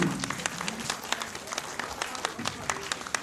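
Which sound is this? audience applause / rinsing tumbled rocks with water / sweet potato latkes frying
audience applause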